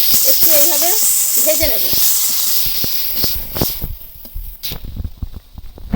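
Fish coated in chilli-onion paste fries in oil with a steady hissing sizzle; someone talks over it at first, then the frying continues alone with scattered pops and spatters.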